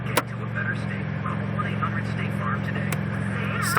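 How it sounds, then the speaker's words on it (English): Mazda 626 engine idling with a failing alternator as the headlights and brights switch on, a steady low drone with a faint rhythmic pulse, close and continuous, with a couple of brief clicks. "Starts idling lower like that."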